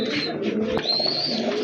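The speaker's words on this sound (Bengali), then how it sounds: "এক জোড়া গোল্লা কবুতর, এটা কিন্তু অরিজিনালি আপনার দেশি কবুতর" A pair of large Gola desi pigeons coos in soft, repeated low murmurs close by, with steady background noise and a brief click partway through.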